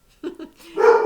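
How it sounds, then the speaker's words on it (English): A dog barks twice in quick short yips, then lets out a longer, louder bark, close by with no other sounds. "Sorry about my barking dog."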